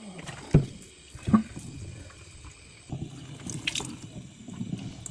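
Cool tap water splashes as a face is rinsed at a sink, two sharp near splashes early, then softer running water and drips trickling on steadily to the end.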